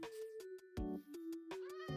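A Minecraft cat meows repeatedly in short, tonal, game-style calls, several distinct meows in a row, close and clear with no talking over them.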